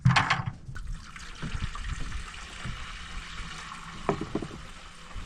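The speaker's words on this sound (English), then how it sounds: "I'm going to turn the water spigot on and fill this up" Water runs from an outdoor spigot into a homemade pig waterer, a steady, moderately quiet rush and trickle with a few splashy bursts near the end.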